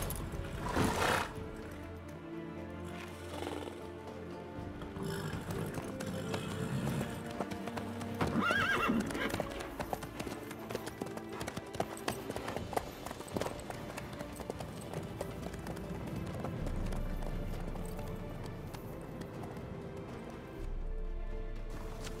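Horse hooves trotting in The Witcher 3, a steady clip-clop rhythm running throughout, with occasional whinnies and game music and ambience layered underneath, moderately loud and close.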